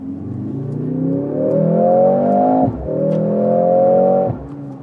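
The 2.0-litre four-cylinder hybrid engine of a Mercedes-AMG GLC 63 S roars loudly and close. Its pitch climbs steadily, then drops sharply at two quick gear changes before rising again.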